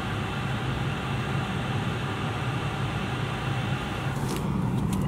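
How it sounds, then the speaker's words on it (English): A VW California Ocean van's auxiliary parking heater runs beneath the vehicle, giving a steady, quiet whooshing drone of blown air that stays even and unbroken throughout, with no talking. "That's the heater blowing on. You can just hear it underneath."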